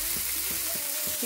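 Al-Faham chicken leg pieces fry in a pan over a high flame, giving a steady close sizzle with soft periodic stirring bumps and no voices.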